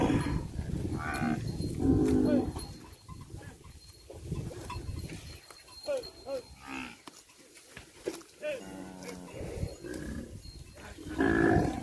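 A herd of cattle grazing out on open fields in Thailand lets out several loud, drawn-out moos, close and overlapping, separated by quieter gaps of rustling ambience.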